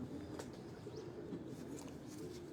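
Pigeons of the Mochha breed coo softly at a rooftop loft, a low steady murmur with a few faint chirps above it and no talking.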